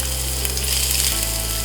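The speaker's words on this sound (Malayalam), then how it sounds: "ചൂടായ എണ്ണയിലേക്ക് ജിഞ്ചർ," Ginger sizzles in hot oil for a crab roast, a constant, close, bright hiss of frying with no voices.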